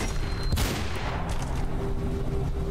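Gunfire from a firefight in the first-person video game Mirror's Edge, a loud sharp burst early on followed by a dense, sustained rumble of shots and distant booms with no talking.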